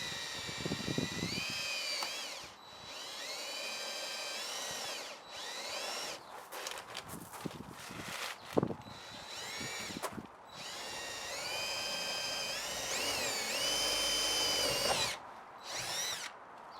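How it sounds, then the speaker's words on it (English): A power drill bores into the body of a food trailer in repeated whining bursts, its pitch rising and falling with short pauses between runs, heard up close. "And then Cormac took the initial drill into the trailer."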